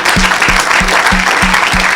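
A church congregation claps in praise, a dense, loud wave of applause joined by a rhythmic low beat pulsing roughly three times a second.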